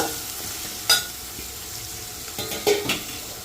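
Green chillies and onions hit hot oil in a pan while cooking a beans fry, giving a soft steady sizzle broken by a few sharp clinks and scrapes of stirring, with no talk.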